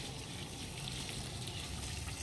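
Garden hose water gushing steadily at strong pressure while plants are watered, a continuous close rushing hiss with no pauses and no talk.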